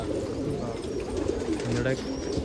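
Black-and-white village pigeons at a pigeon festival in Nashik coo steadily at close range, a continuous low murmur of several birds with someone talking over it.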